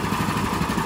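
A Predator 212 small engine runs steadily during its break-in, a loud continuous chugging drone with no talk over it.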